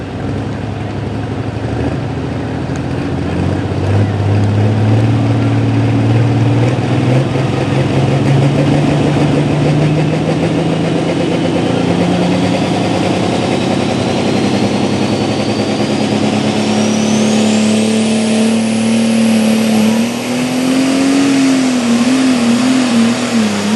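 Turbocharged pulling tractor at a night tractor pull in Shippensburg, Pennsylvania, its engine loud and close, climbing steadily in pitch as it revs, then wavering near the end with a rising turbo whine.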